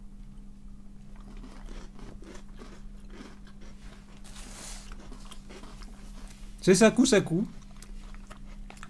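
Crunchy Japanese biscuit, such as a Sakusaku Panda or Collon, bitten with a short burst of close crisp crunches, surrounded by casual talk and a steady low hum.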